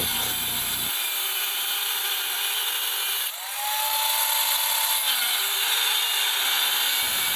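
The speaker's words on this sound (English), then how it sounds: "I'm going to cut off the teeth with a angle grinder" An angle grinder cuts the teeth off a hard steel drive sprocket for a 1956 Gilera, a sustained high whine with brief dips where the disc bites, running nearly without pause.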